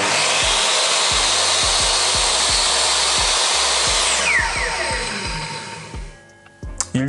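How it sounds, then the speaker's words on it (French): An Einhell TE-CC 2025 UF table saw whines loudly, then its pitch sweeps steadily downward as the blade brake slows the blade quickly to a stop, with rhythmic low thumps throughout. "Il y a un frein de lame. Alors ok, elle ne s'arrête pas immédiatement"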